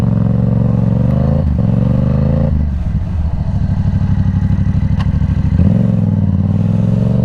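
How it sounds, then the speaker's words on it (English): A motorcycle idling and rumbling loudly up close in a parking lot while practicing full stop braking, the engine note dipping and shifting as it slows and picks back up, with no talking. "come into a parking lot just like this and go back to back to back on practicing full stop braking"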